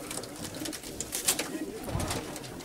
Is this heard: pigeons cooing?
yes